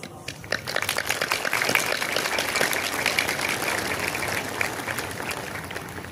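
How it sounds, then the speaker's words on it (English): An audience at a school Independence Day celebration gives a resounding round of applause for the chief guest, a steady dense clapping wash from a large crowd. "Let us honor his presence among us this Independence Day with a heartfelt and resounding round of applause"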